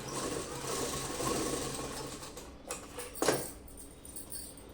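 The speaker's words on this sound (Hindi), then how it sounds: "जैसे मैं सिल रही हूँ ऐसे ही आपको भी सिलना है।" A sewing machine stitches a salwar in short, fast, rattling runs at moderate distance. A steady mechanical chatter carries through the first half, and then a few quieter, choppy bursts follow.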